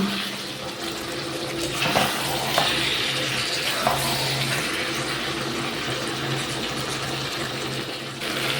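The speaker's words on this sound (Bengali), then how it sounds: "তো চলো এবার জলটা দিয়ে" Water poured into chicken curry cooking in a pot for a home Sunday meal, making a steady rushing, splashing wash that runs loud and close for the full length, with no voices.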